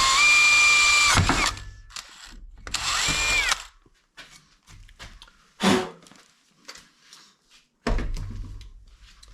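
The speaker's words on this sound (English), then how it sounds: "Then you have to drill the side of the bushing here so your grease fitting can push grease into that bushing" A power drill bores into the side of a Model T Ford bushing in two loud whining bursts, followed by scattered clinks and knocks of handling, then another short burst of the drill.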